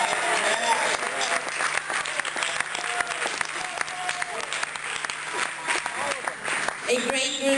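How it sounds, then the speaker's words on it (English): Audience applause at a harm reduction dinner for San Francisco Food Not Bombs, a steady wash of clapping throughout with some voices mixed in. "Let's give a big round of applause for San Francisco Food Not Bombs"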